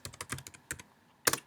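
Computer keys clatter in short bursts, a quick run of taps, a pause, then a final cluster of keystrokes, close and fairly quiet.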